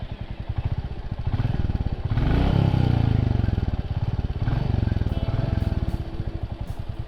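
A 2021 Royal Enfield Classic with the 350cc J-series engine runs close by, a steady rapid thumping idle that swells briefly as it is revved and then settles again.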